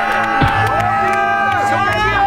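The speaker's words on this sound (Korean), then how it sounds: "박수로 맞이해 주세요." A studio audience at a Korean variety show cheers and whoops loudly for a guest's entrance, a dense, continuous crowd roar with shouting voices throughout.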